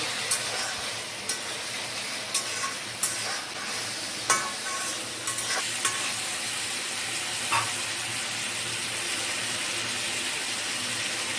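Chicken that has released a lot of water sizzles steadily in a pan as the liquid cooks off, a continuous loud hiss broken by a few light utensil taps, with no voices.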